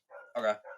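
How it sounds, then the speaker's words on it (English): A neighbour's dog gives one or two short barks, close and fairly loud, over a quiet background in a very brief snippet, with a voice speaking briefly. "Sorry for the barking. My neighbor's dogs are annoying"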